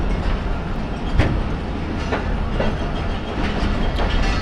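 An Awam Express passenger train rolls along with a steady rumble and repeated clickety-clack wheel beats on the rails, heard close from inside, with a few sharper joint clanks and no talking.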